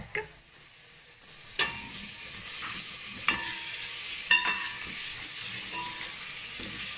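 Jollof rice with meat broth and tomato puree is stirred in a sizzling pot, with a steady frying hiss and a few sharp spoon scrapes and clinks against the pot.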